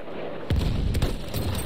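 Gunfire and explosions sound in the World War I shooter Battlefield 1: a sudden loud burst of shots and booms kicks in after a short quieter stretch, followed by a rumbling barrage.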